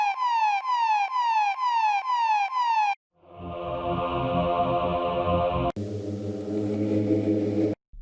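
Siren sound effect from a dance-music sample pack: a rapid wailing siren in repeated sweeps, then a dense, noisy rumbling swell that builds and cuts off, loud and alone without speech.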